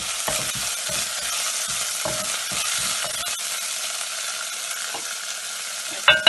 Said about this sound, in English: Then you add the green chili, the chopped green chilies, the ginger.